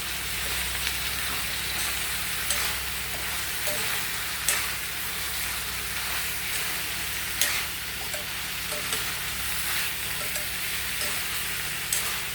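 Brinjal chops frying in an oil-filled pan with turmeric as they are stirred: a steady, close hiss of sizzling, broken by a light scrape of the spoon every couple of seconds, with no talking.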